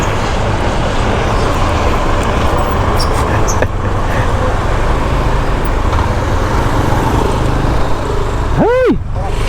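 Fast road traffic rushes past at a roadside event site in Baliuag, Bulacan, a steady loud roar of passing vehicles with one sharp Doppler sweep near the end as a car speeds close by.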